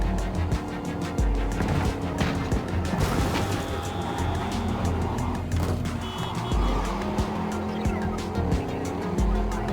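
A car in Cyberpunk 2077 slides about with screeching tires and a droning engine. The skids rise and fall over nearly ten seconds of continuous, loud driving noise.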